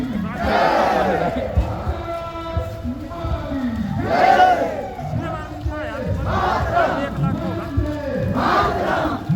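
A large crowd at a rally in Jashpur fills the air with loud chanting and shouted slogans, rising in repeated surges amid steady crowd noise.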